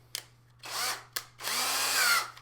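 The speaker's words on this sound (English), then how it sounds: "I do the dangerous thing of drilling" An electric drill bores into a ukulele body for a strap button, with two short bursts of motor whine, each preceded by a click, the second burst longer and steady, close and loud.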